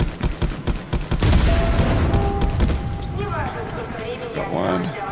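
Heavy gunfire and booming blasts in the co-op shooter Contractors VR, rapid cracks piling into a continuous roar, with people talking over the combat.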